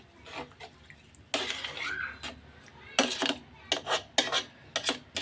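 A utensil clatters and scrapes against a pan while salted fried onions are stirred, giving irregular metallic knocks and scraping bursts, close by and moderately loud.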